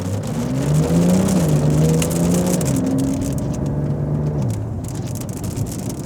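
A Porsche 911 Dakar driving raised on its lifted suspension in sport mode, its engine note rising and falling through gear changes with a steady road roar, close and fairly loud, no talking.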